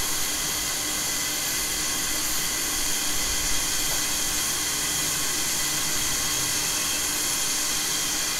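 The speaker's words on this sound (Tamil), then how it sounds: "இப்போ நல்லா தண்ணி காஞ்சிருச்சு." Steady, broad hiss of steam from water boiling in an idli pot, continuous and even throughout with no pauses.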